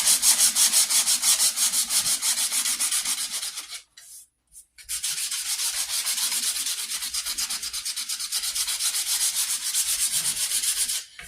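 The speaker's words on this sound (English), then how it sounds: "You could probably use a block when you're sanding this, but I like to use my hand because I can wrap it." Hand sanding by bare hand on the wooden stock of a .50 caliber St. Louis Hawken rifle, a steady run of rhythmic close abrasive strokes that pause briefly midway, then resume.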